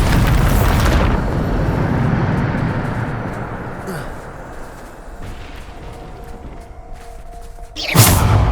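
Bombarda spell explosions in the Hogwarts Legacy video game: a loud booming blast opens, a rumbling, busy din follows, and another sharp burst hits near the end.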